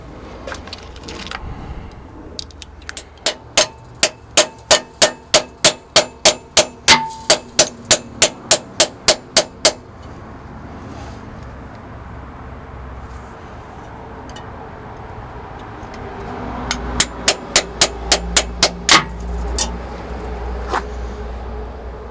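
Hammer blows knock parts into a Ford L9000 Aeromax truck, first a fast, evenly spaced run of about twenty loud metallic strikes, then after a pause a shorter burst of similar ringing hits.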